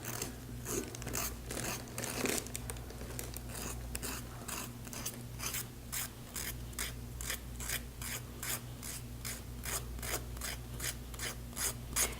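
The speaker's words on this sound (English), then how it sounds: "Now what we're supposed to be able to do is just file the end down with this." Nail file rasping against the end of a nail wrap, a steady run of quick, close back-and-forth filing strokes with no talking.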